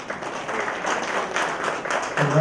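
Audience applause at a business school and women's education awards ceremony, a steady patter of many hands at moderate level that swells slightly near the end as a voice begins.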